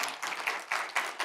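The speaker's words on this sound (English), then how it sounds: "you guys clapping" An audience claps at a business talk, the applause swelling and fading in short uneven bursts across a brief moment, fairly faint and unaccompanied by speech.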